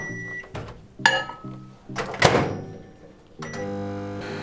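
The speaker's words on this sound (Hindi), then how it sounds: "इसको हम माइक्रोवेव कर लेते हैं ताकि ये मेल्ट हो जाए।" A microwave oven melts chocolate and butter in a mug, giving off a low, steady humming drone broken by a couple of nearby clunks before the hum starts up again, with no speech.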